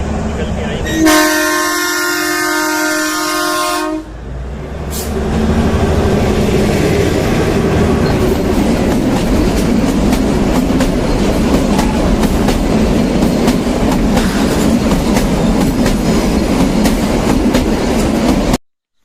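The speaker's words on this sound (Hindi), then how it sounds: "आप देखिए ये आई है ट्रेन, निकल के आई है।" A train comes through with a brief horn blast, then a steady, loud rumble and rhythmic clatter of wagons rolling past nearby for the rest of the pass.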